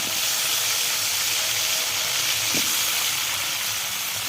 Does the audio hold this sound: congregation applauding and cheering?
no